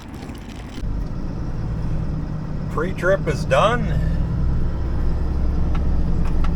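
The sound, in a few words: Ryder box truck engine started and idling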